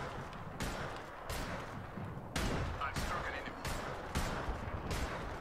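Gunfire in the video game Apex Legends, regular loud shots about every half second to second over a noisy battle background, with a voice mixed in.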